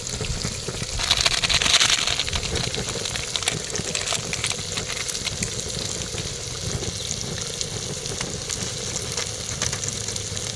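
Water pours steadily into a cooking pot for a crab dish, a continuous rushing gush that swells briefly near the start and then runs on evenly with no talking.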